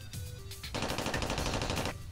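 A submachine gun fires in the Worms Armageddon video game, a sustained rapid burst of shots lasting over a second after a brief lead-in of other game sounds, loud and close with no talk.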